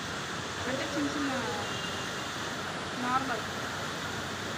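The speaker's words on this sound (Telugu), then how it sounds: "వర్షం పడుతుంది మరి వెళ్ళడుగా" Heavy rain pours down at midnight in Vijayawada, a dense steady roar of falling water with faint voices and tonal sounds drifting through it.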